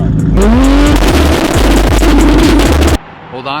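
A turbocharged 1400-horsepower Toyota Supra is driven hard, its engine roaring loud and close with rising revs and rapid gear-change surges, then cutting off sharply before a quieter revving tail; a voice can be heard briefly.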